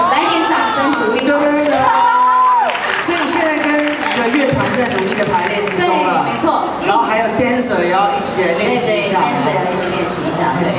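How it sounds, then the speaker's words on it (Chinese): A live audience at an outdoor Taipei music festival stage cheers and claps throughout, a dense crowd roar with raised shouts and a voice carrying over it. "来点掌声鼓励。"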